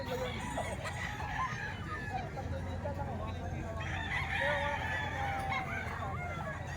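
Roosters and chickens at a live poultry market crow and cluck amid a steady crowd hubbub, with a rooster's call rising clearly around the middle of the stretch.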